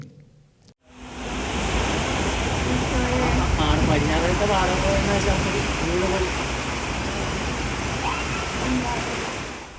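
Sea waves surge and roar continuously onto the shore, a loud rushing wash that fills the scene while a person speaks over it.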